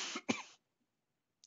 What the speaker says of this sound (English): I'm just all over the place, just coughing.